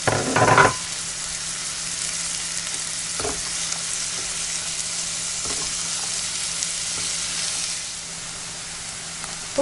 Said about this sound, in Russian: лук у меня поджарился